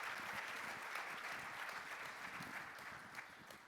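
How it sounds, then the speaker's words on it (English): An audience at a panel discussion on sports and tolerance gives a steady round of applause, dense and continuous clapping that holds at an even level throughout before easing slightly at the end. "Let's give them a round of applause, ladies and gentlemen."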